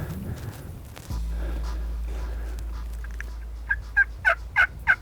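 Repeated wild turkey calls, about five short bursts in a quick rhythm, ring out near the end over a steady low rumble, with quieter calling earlier.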